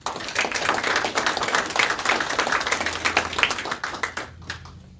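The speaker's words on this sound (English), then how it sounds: "I'd like to give a round of applause to them and also our veterans." Audience at a community advisory board meeting gives a round of applause, a continuous patter of many hands clapping at moderate volume that tapers off near the end.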